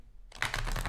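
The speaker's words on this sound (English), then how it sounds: "I grab 2 piles of those and I riffle shuffle these together" Tarot cards riffle shuffled together from two small piles, a quick burst of crisp fluttering clicks starting abruptly after a short quiet moment, close and clear with no talk.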